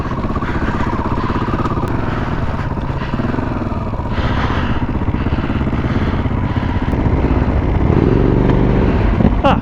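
A TRF trail motorcycle's engine runs steadily and loudly close by while being ridden, with some clatter and revving that grows slightly louder near the end; no talking.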